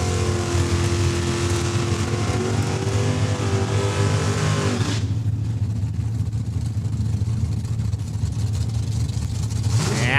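RWH Motorsports dragster at Saskatchewan International Raceway in Saskatoon, a loud roaring engine that fades partway through into ongoing track ambience and crowd noise.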